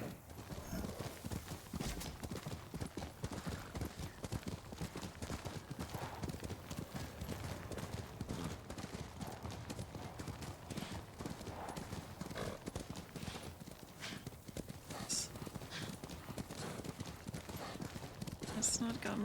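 Steady galloping hoofbeats of a horse in the video game Ghost of Tsushima drum on without a break, close and rhythmic, with the horse snorting now and then along the way.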